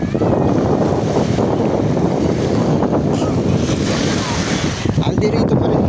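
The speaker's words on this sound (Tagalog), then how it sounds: "Mababaw ang tubig ngayon, medyo may kalakasan din ang alon" Strong waves washing over shallow water at Baseco Beach in Manila, a continuous loud roar of surf close by, mixed with heavy wind buffeting the microphone.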